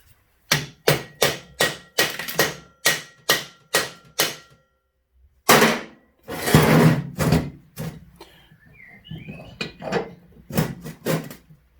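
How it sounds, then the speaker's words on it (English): Sharp metallic hammer blows strike in a steady rhythm while hammering a metal part onto a Suzuki DR200 motorcycle, about a dozen hits, a brief scraping pause, then another quick burst of blows. "let's hammer that on first"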